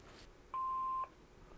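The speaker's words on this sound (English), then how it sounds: "Record greeting after the beep" Panasonic KX-TG175C cordless answering machine beep: a single clear, steady half-second electronic tone over faint background hiss.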